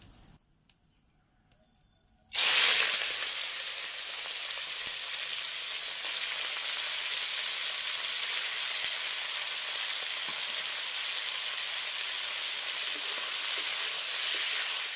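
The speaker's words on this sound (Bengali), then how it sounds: "তেলটা পুরোপুরি গরম হয়ে গেছে, এবার চিকেন কিমাটাকে ভেজে নেব।" Chicken keema, minced chicken, hitting fully heated oil and frying, a sudden loud burst of sizzling after a quiet start, then a steady, close, dense crackle sustained throughout.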